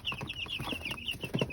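Three-day-old broiler chicks in a brooder cheep and peep in quick, high, repeated calls close to the microphone, with soft shuffling beneath and no talking.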